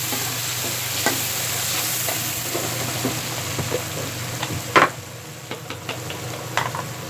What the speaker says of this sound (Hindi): ये अब लहसुन का पेस्ट हमने डाला है।